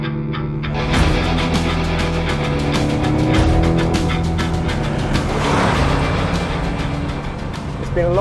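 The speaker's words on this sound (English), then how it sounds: "It's also my first time driving one of the new mid-engined C8 generation." A mid-engined Chevrolet Corvette C8 drives with a steady, loud engine drone and harmonic tones rising slightly mid-run, constant throughout, with a voice talking over it.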